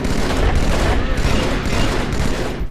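Dense, continuous gunfire from the battle rifle in the Halo video game, loud and close, with overlapping bursts and booming reports filling the whole stretch.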